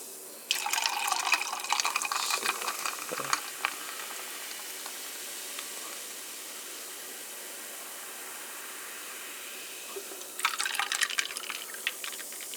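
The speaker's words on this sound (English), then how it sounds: "And you pour it into this" Pepsi pours over ice into a glass in two short bursts, a fizzy splashing stream with clinking and crackling bubbles, separated by a long quiet stretch of soft fizz; close and fairly quiet.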